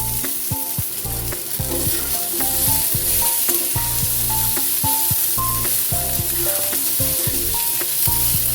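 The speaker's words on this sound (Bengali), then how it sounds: "ডাঁটাটা আগে সবজির সাথে ভেজে নিচ্ছি।" Bottle gourd greens stems are frying with salted vegetables in a pan, making a loud, constant sizzle with frequent scraping stirs layered on top, close to the pan.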